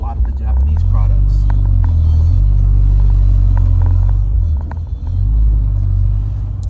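A Mazda RX-7 FC with an oil leak idles with a loud, steady low rumble that dips briefly near the end.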